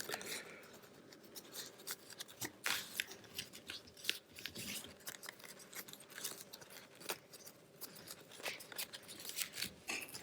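Scissors snip through costume fabric for a Polichinelle outfit, a steady run of close crisp cuts and crunchy rustles with no talking.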